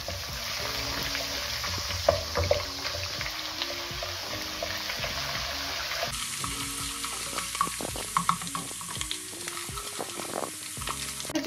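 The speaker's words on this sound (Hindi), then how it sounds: "ऑयल गर्म हो चुका है, इसके अंदर हम अदरक लहसुन का पेस्ट ऐड करेंगे और इसको लाइट ब्राउन कर लेंगे।" Ginger-garlic paste sizzling and frying in hot oil in a pan for a mutton kebab karahi, a steady close crackle with occasional stirring clatters throughout, no talking.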